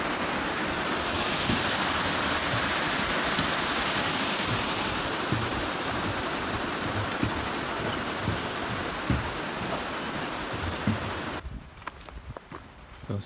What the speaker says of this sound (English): It's a considerable river.